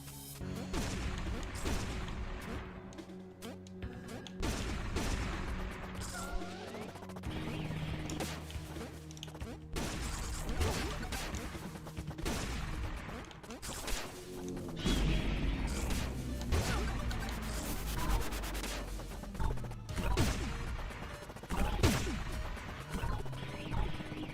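Shotgun blasts in the Pizza Tower video game, repeated crashing bursts and smashing impacts over busy game music, loud and dense throughout.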